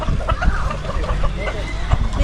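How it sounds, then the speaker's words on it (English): Cochin Bantam chickens of Chinese origin cluck in a busy bird park, with soft, dense chatter close by and people talking underneath. "So this is Cochin Bantam chicken"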